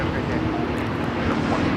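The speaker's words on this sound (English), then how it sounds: "This is Delta Airlines 446 taking off to Atlanta on the A350-900." A Delta Air Lines Airbus A350-900 heavy jet takes off at Los Angeles airport, a continuous deep engine roar with steady rumble across the short stretch, a voice faintly audible beneath it.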